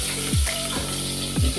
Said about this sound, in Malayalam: സവോള നമ്മൾ അതിലേക്ക് ഇടാം.